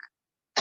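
A single short cough from a woman teaching an online yoga class over Zoom, close and clear after a brief faint sound and a pause.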